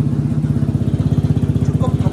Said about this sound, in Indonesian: Walaupun sudah kita bore up di sini, suara knalpot